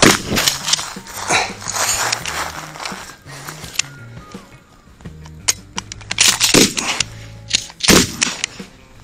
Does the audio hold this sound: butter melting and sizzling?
no